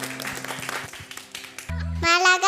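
An audience claps for a group of children after a song performance, a short burst of applause mixed with a voice before sudden tonal music cuts in and takes over.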